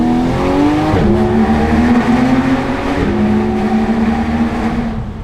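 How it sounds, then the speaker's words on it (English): A Porsche GT3 sports car's exhaust roars loudly and close, the engine note rising and falling through revs in a continuous throaty wail. "I've missed the GT3 and pure exhaust sound."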